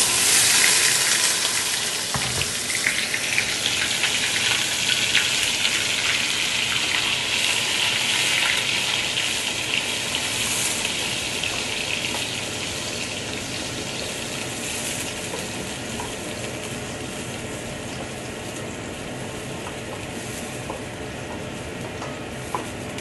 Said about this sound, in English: I'll put it in the oil.